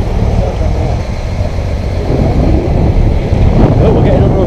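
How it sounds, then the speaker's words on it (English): Wind buffets the microphone at sea aboard a fishing boat, a loud, continuous rumbling roar with low engine and water noise underneath. "It's a bit breezy."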